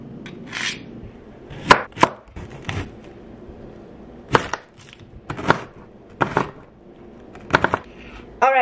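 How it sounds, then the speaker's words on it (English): A knife minces garlic on a cutting board in a quiet kitchen, striking in scattered sharp chops, some single and some quick pairs, close and fairly crisp against a low background hum. "Alright, so I'm going to mince some garlic"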